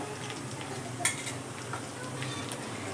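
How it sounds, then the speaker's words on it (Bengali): Minced garlic stirred lightly in hot oil for mushroom pakoras, giving a low steady sizzle under faint scraping, with one brief clink of a utensil against the pan near the middle. "রসুনটা আমি হালকা করে তেলে নেড়ে নিলাম।"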